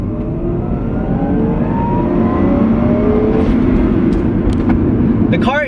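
Manual Lexus IS300 accelerating hard in a quick pull, engine note climbing steadily in pitch through the gear with a loud, close roar and brief shift sounds near the end.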